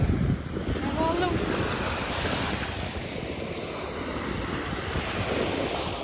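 Water washes and laps in steady surf beside the sea, with wind buffeting the microphone, a voice calling out briefly at the start.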